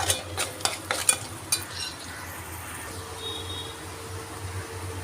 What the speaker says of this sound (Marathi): आणि आता हे चांगलं मिक्स करायचं आणि एक बुर्जी बनवून घ्यायची आहे आपल्याला.